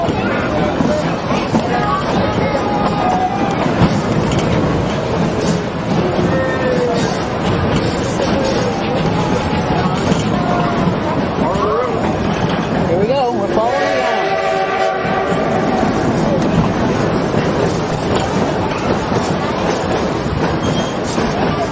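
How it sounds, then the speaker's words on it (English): A train on the Durango and Silverton railroad rumbles past continuously with clattering wheels and a squealing passage midway, loud and near, with voices mixed in. "There's the train!"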